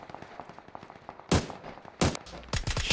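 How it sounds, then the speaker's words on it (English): Suppressed VSS rifle shots in PUBG crack out in a few sharp bursts, two single reports followed by a quick cluster of rapid shots, fairly loud against faint background game noise. "I have a suppressor on my gun, so nobody knows where we're shooting them from"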